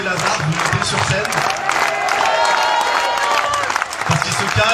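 Festival crowd applauding at a château, dense clapping and cheering from many hands, steady and loud throughout with voices mixed in.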